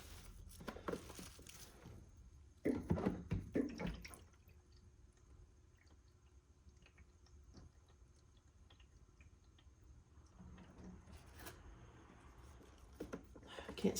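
Water trickling and dripping into an Aerogarden lettuce planter as it is topped up through the side, soft and close, with a few louder bursts at the start and end.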